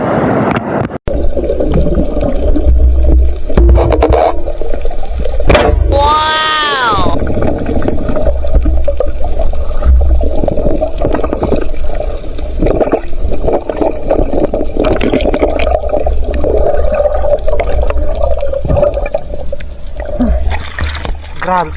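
A strong water current rushes with a loud, continuous broadband roar and gurgle throughout, while people talk over it at intervals.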